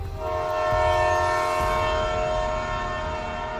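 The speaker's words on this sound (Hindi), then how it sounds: "उसने देखा कि सच में उसकी ट्रेन आ गई है" A train arriving at a station sounds a loud, sustained horn chord over the low rumble of the rail cars. There is no talking.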